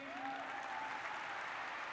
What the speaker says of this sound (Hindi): एक बार उनके लिए तालियां बनती हैं प्लीज